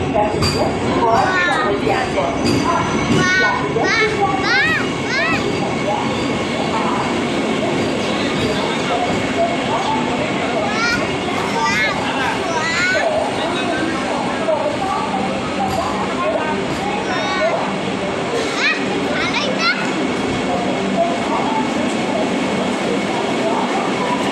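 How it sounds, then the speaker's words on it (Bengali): A Vande Bharat train rolls into a station with steady rumbling and clatter, busy crowd chatter and voices over it throughout. "এই যে আমাদের বন্দে ভারত ট্রেন, এই যে ঢুকছে।"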